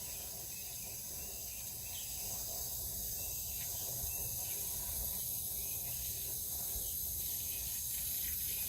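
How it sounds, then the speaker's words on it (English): Foaming AC coil cleaner hissing and fizzing inside the evaporator coil of a Chevrolet Astro van, a steady broadband hiss that builds slightly and holds throughout, with faint crackle, no talk. "So you hear the sound there, all evaporator coil is filled with foaming right now."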